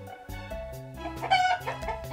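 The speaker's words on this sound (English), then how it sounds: "Hen." Hen clucks and a short crowing call sound over cheerful background music, close and fairly loud.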